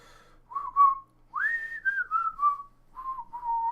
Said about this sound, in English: And we hear a whistling tune